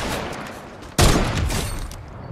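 A single loud heavy sniper shot in a shooter video game, a sharp close blast partway through followed by a long rumbling tail that fades over a second or so.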